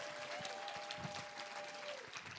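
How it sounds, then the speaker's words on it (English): An audience at a leadership conference applauds steadily, a faint, even wash of many hands clapping throughout, with a thin tonal whine running through the middle. "Let's give another round of applause to Katrina Kong."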